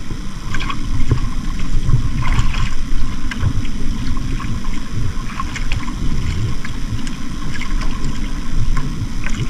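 Large diesel-fueled motor boat at sea, its engine a steady low rumble mixed with wind and water splashing against the hull throughout, with no voices.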